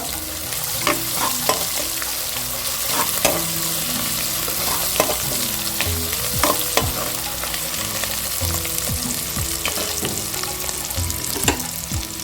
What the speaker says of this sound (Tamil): இஞ்சி பூண்டு சேர்த்துக்கலாம். நல்லா பச்சை வாசனை போட்டு